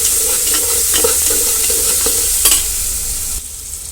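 Peanuts go into a sizzling hot-oil tempering for masala khichdi, giving a steady frying hiss with a few rhythmic spoon scrapes and stirring knocks before the sizzle eases.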